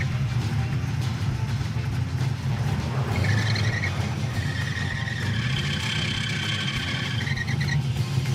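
A car engine idles steadily, loud and close, after an alternator pulley repair, with a rough, wavering hum and faint chirps in the background.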